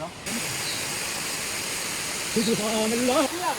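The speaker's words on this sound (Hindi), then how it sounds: "आबशार के पानी का चट्टानों से गिरने का शोर दिल को सहर कर रहा था" Steady broadband rush of a waterfall pouring onto rocks in a Kashmir forest, continuous and enveloping, with a voice speaking over it near the end.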